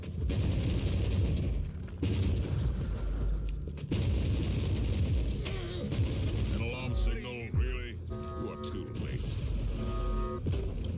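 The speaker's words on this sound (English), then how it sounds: "their mortars attack the Imperial fort with artillery fire" Rebel mortar artillery bombarding an Imperial fort in Warhammer 40,000: Inquisitor - Martyr, a sustained roar of heavy booms and gunfire with brief voices and game effects layered over it.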